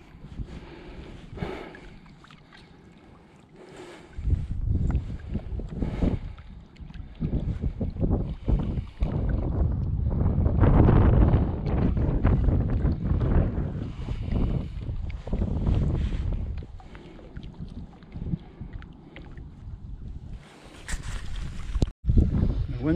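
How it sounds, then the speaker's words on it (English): Gusty wind buffets the microphone in rushing, uneven surges over water, rising and falling throughout. "Wind has now changed direction a bit."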